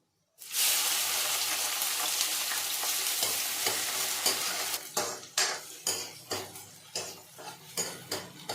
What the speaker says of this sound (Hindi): तो मेथी हो चुकी है तो मैं इसमें लहसुन प्याज डाल दूँगी।